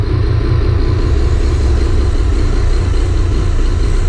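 A motorcycle making a strange noise, its engine running as a steady, loud, low rumble near the listener, continuous and without a pause.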